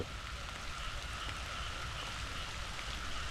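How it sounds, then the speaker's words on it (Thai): Heavy storm rain pours down steadily on a cassava field in Rayong, Thailand, a dense loud hiss of drops hitting surfaces with no break. "วันนี้พายุเข้าครับ"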